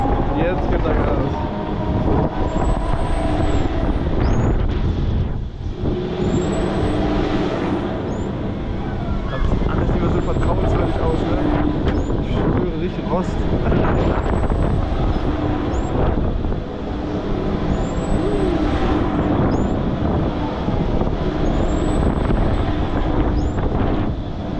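The Eagle amusement ride at Slagharen picking up speed: a steady, loud rushing roar of wind and machinery that goes on for the whole stretch, with a person talking over it.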